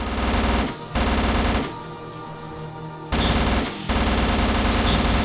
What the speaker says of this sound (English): Let's try the SMG here and see how it goes.